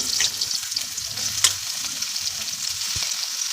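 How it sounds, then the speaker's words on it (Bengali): Squeezed soybean chunks frying in hot oil, a continuous bright sizzle with occasional spatula knocks, close and steady. "সয়াবিনটা ভাজতে হবে এবারে"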